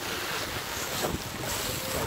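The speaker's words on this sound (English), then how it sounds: "it's so windy, oh my gosh! Look at the wind!" Strong wind gusting through a park, a constant roaring buffet across the microphone that swells briefly midway, with no talking.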